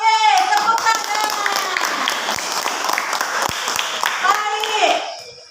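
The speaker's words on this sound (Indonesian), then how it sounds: "Oke, tepuk tangan" Primary school class claps together in a loud, lively burst of many small hands, with children's voices and shouts mixed in before the clapping fades at the end.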